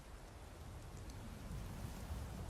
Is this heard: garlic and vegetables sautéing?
no